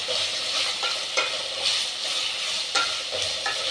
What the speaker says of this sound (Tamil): நல்லா கிளறி விடலாம். கொஞ்சம் நேரம் அது வதங்கட்டும்.